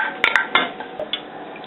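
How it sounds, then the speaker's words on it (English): Spoon gently stirring butter chicken sauce in a pan, a few light metallic scrapes and clinks close by, quiet and unhurried. "Stirring it in very, very gently, and that's just got to thicken up a little bit."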